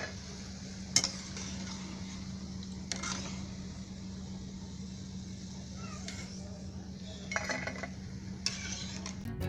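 Schezwan-spiced clam bhaji fry in hot oil in a home kitchen, a steady low sizzle broken by a few sharp clinks of a utensil against the pan, with someone speaking over it.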